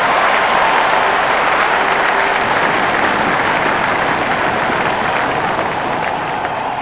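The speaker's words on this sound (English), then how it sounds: "Crowd is going crazy." A large stadium crowd at an England vs Afghanistan Cricket World Cup 2023 match roars and cheers continuously, a dense, loud wash of applause and shouting that holds steady throughout without a break.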